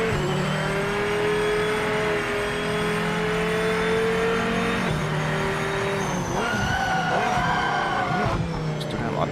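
Race car tyres squealing and skidding as the brakes lock up in Project Motor Racing on PS5, a sustained screech over a droning engine that shifts pitch partway through, loud and continuous.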